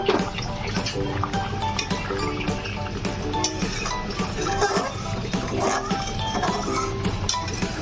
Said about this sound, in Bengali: ঢাকাটা টেনে নিয়ে একবার নাড়িয়ে দেবো।